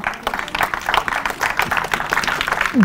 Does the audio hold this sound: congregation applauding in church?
yes